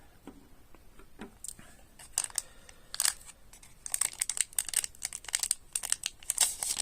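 Crinkly plastic wrapper of a Fallout Collector Booster card pack being torn and peeled open up close, with irregular bursts of crackling and rustling that grow denser and louder toward the end.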